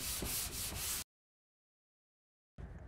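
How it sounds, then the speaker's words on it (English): A hand sander rubs across plasterboard tape joints, flattening the filled seams, with a close, loud, scratchy sweep lasting about a second, followed by silence and then another short scrape. "we need to sand the joints so that they are nice and flat to the board surface"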